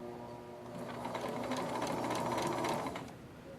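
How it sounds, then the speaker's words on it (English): A home sewing machine stitches fabric along a seam. Its close, steady mechanical whir builds, holds for about two seconds, then winds down. "And you can begin sewing."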